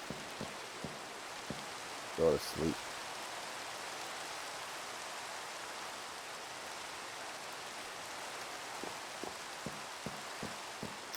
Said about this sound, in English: Oh, the rain! The rain!